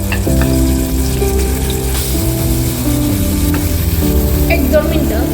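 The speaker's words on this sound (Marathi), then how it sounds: "पहिल्यांदा मी खवा भाजून घेत आहे।" Fresh khava, milk solids, roasted in a pan for modak sweets and stirred, a loud close sizzle with repeated scraping strokes of the spoon against the pan, no talking.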